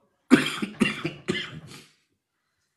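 A man coughs four times in a quick, close series at the tail of a flu, each harsh burst weaker than the last, followed by silence.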